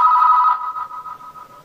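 House telephone ringing with a single electronic ring tone, loud and close at first, then fading over about a second, with no talk.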